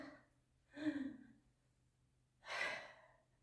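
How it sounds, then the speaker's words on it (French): Two deep breaths during a dynamic beginner yoga breathing exercise: a quick sharp inhale, a pause, then a longer audible exhale, close and quiet, with no talking. "Et on y va avec quelques respirations de la joie"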